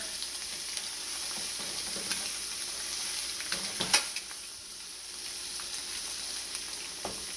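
Eggs and vegetables sizzle steadily in a hot frying pan through a breakfast scramble, with a few soft scrapes and one clatter near the four-second mark as the pieces are flipped.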